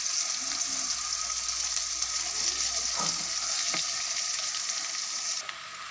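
Onions frying in a pan until browned for a bhindi and chicken dish, a continuous even sizzle that stays close and steady throughout, with a couple of faint stirring touches and no voices.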